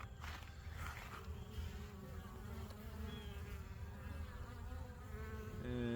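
Honey bees buzz steadily around two backyard hives, one with a honey super above two brood boxes; a dense, even hum of many insects close by fills the whole stretch without talk.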